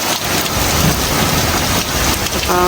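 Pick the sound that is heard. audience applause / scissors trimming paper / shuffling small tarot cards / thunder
thunder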